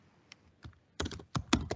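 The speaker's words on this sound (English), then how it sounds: "someone is typing" A computer keyboard is typed on near an open microphone during an online workshop presentation: a few scattered keystrokes followed by a quicker burst, faint and with no talking.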